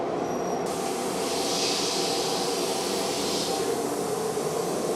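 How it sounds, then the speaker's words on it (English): A tile-processing robot machine runs while being fed tiles, giving a loud, steady mechanical roar with no breaks. "we're feeding the robot"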